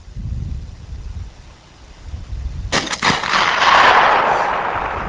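A Barrett M82A1 sniper rifle fires once at a 3/4-inch bullet resistant glass target, a single sharp, loud blast followed by a long rolling echo over outdoor wind noise.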